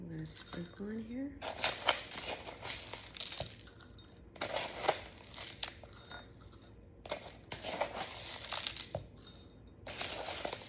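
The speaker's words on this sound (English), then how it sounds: "And then I have some yummy granola I'm going to sprinkle in here." Granola sprinkled into a chocolate fruit smoothie bowl, irregular bursts of light crunchy rattling and rustling clusters, close and fairly quiet, with short pauses between pours and a faint voice at the start.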